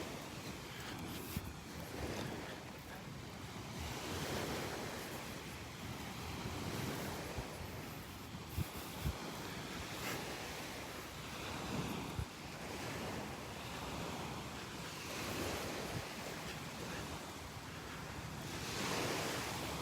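Surf washes steadily onto the sand at Delnor-Wiggins beach on a Sunday morning walk, a continuous broadband roar of waves with gentle swells and some wind buffeting the microphone, no talking.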